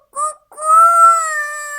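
A child imitates a rooster's crow with a short voiced yelp followed by a longer, sustained, tonal crowing cry, loud and close in a quiet room.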